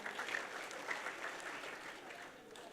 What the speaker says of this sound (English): Another round of applause to the presenter.